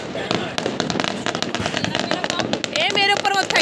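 Diwali firecrackers burst nearby as dense crackling and popping, with whistling sweeps near the end, under people talking throughout.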